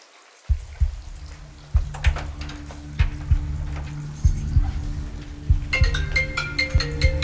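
A phone ringtone plays nearby, a repeating melodic tune over a pulsing beat that continues without pause.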